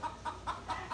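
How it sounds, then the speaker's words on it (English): Five quick, evenly spaced clucking calls from a rooster stuck up in a tree, loud and close, with no talking. "Rooster. Rooster."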